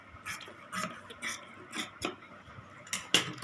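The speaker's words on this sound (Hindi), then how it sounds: "ये जो एक्स्ट्रा है उसको हम काट देंगे" Extra cloth being trimmed with scissors while stitching a Rajputi kanchali blouse gives a series of short, sharp snips about every half second, with a louder cut near the end.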